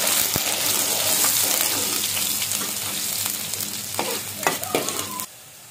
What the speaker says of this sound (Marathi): तेल तापत ठेवलेलं आहे कांदा टाकूया. कांदा आपलं लालसर भाजून घ्यायचं.